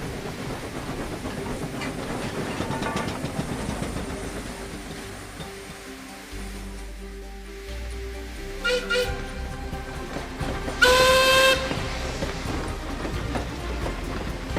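A steam train runs with a steady rumbling chug and clatter, then a bright, loud whistle blows briefly near the end, with soft voices mixed in earlier.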